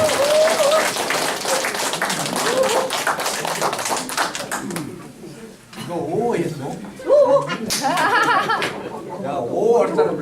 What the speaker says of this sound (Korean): 여러분 박수로 부탁드립니다.